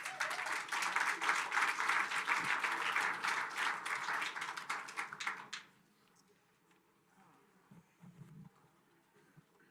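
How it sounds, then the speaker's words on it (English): Audience applause at a Food Day session at the UN General Assembly, a steady dense clapping from a crowd that lasts several seconds and then stops abruptly, leaving quiet room tone. "Please give her a round of applause."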